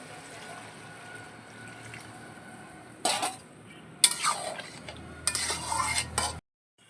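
Water poured into a pan of mixed vegetables frying, sounding as a few bursts of splashing and hissing along with clinks of a stirring utensil against the pan, set against a low, steady background.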